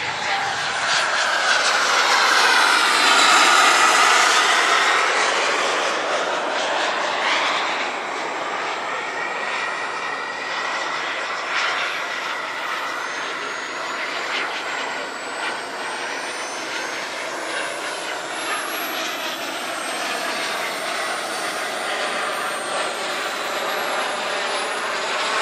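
Turbine jet engine of a scratch-built 1/6 scale model F-105 Thunderchief flying at an RC air show, a loud sustained whine and roar that swells near the start then holds steady as the aircraft passes, with faint talk underneath.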